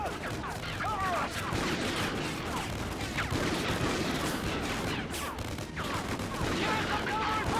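Dense automatic and rifle gunfire from the Call of Duty: Ghosts video game rattles continuously in a battlefield mix, with whistling effects and shouted voices buried in the din.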